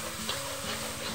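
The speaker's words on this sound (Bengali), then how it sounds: "মশলা ভালো করে কষাই নিচ্ছি" Spice paste with ginger-garlic paste, turmeric, chili and coriander powders frying and being stirred in a pan for a river boal fish curry with potato and cauliflower, a steady close sizzle with faint scraping strokes, very brief.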